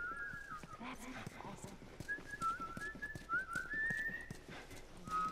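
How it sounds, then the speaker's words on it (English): A melodic whistled tune in The Last of Us Remastered drifts along over rhythmic hoof clops and ambient game noise, fairly faint, with occasional voices underneath. "Whistling's loud, though, Ellie."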